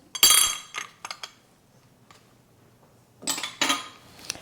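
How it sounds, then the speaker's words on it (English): Cinnamon powder and salt stirred together in a mixing bowl while making an Easter bun with stout, heard as a few bright clinks and scrapes of utensil against bowl in short clusters, with a quiet pause between bursts. "And we mix this for the even distribution of the dry ingredients."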